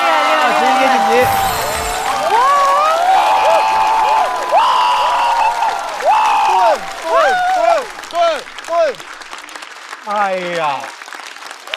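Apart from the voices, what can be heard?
studio audience applause and cheering for a comedian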